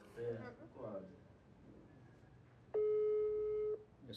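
A WhatsApp call tone sounds once for about a second, a clean steady electronic beep after some brief talk and faint background murmur.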